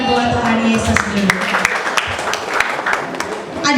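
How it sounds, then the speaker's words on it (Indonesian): A church congregation at a joint Christmas service for an orphanage and a children's church claps in a loud, close burst of scattered hand claps, with voices talking over it throughout. "Boleh tepuk tangan buat Tuhan Yesus dulu."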